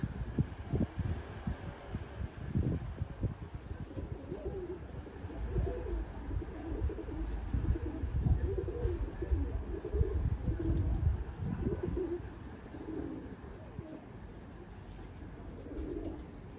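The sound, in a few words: tumbler pigeons cooing near coop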